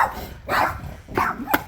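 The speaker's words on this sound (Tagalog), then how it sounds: "May dalawang aso sila anak ngayon." Dogs kept in a cage at a home bark in short, loud bursts close by, with about three separate barks spaced out and a sharp yip at the end.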